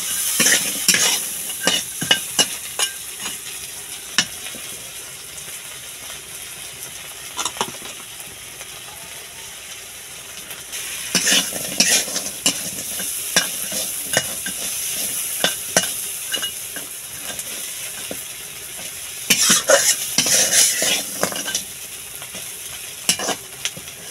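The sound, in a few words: fish being fried and stirred with salt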